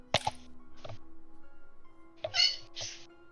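Sneezes from a player at a tabletop role-playing game session: a sharp burst near the start and another pair of bursts later, close and fairly quiet over a hushed room.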